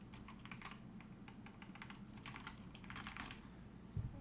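Quiet, rapid key clatter comes from typing on a 2023 SteelSeries Apex Pro TKL keyboard, with irregular bursts of keystrokes and a soft thump at the end.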